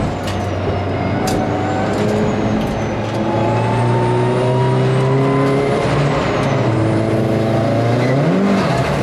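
Race cars at Brands Hatch, including a modified Audi A3, coming round as a pack, with several engines droning and rising in pitch together, loud and continuous, with revs climbing near the end.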